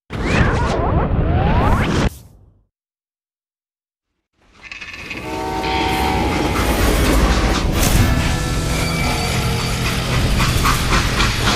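In the video game Call of Juarez: Gunslinger, a freight train rumbles along with rhythmic clatter and hiss, loud and steady, after a brief burst of sound and a few seconds of silence.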